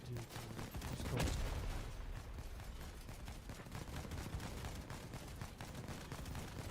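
Rapid gunfire from shooting at enemies in a video game, a steady dense crackle of shots running continuously with a louder burst near the start, heard under a talking voice.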